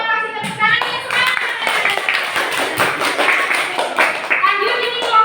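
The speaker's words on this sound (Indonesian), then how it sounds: "Ayo, kasih tepuk tangannya semangat." A group claps hands together in a school teaching-practice session, with dense overlapping claps running steadily for several seconds while voices, including children's, carry on underneath.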